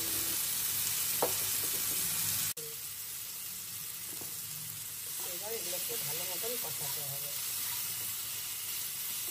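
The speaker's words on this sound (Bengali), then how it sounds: "এক বড় চামচ পরিমাণে আদা বাটা, ধনিয়া গুঁড়ো, লঙ্কার গুঁড়ো আর জিরের গুঁড়ো দিয়ে ভালো মতন কষাতে হবে।" Ginger paste with ground coriander, chili and cumin sautés in a pan, giving a steady soft sizzle and hiss with a few light stirring scrapes and no one talking.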